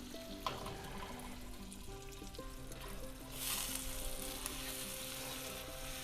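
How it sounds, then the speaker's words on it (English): Brown sugar melts in a pan with a quiet, steady sizzle and soft bubbling, growing a little louder toward the end, while faint clinks and background kitchen tones sit underneath. "We just want to melt the sugar."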